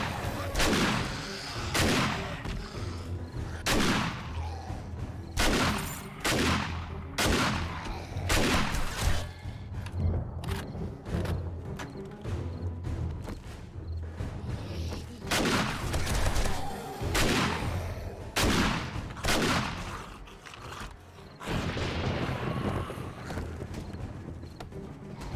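Automatic turrets in 7 Days to Die fire in repeated loud bursts of sharp, rapid shots throughout, with brief gaps between volleys and a busy, clattering background.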